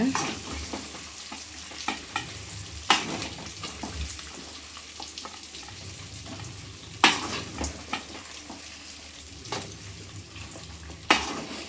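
Fried fish is stirred into sizzling sautéed masala for fish pickle, with continuous pan frying and periodic loud scraping and clattering strokes of the spoon against the pan.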